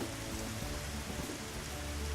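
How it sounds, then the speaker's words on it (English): Steady rain from the video game Dig or Die, a dense, even hiss of falling drops that holds at a constant level throughout, with no voices over it. "Oh, here comes the rain."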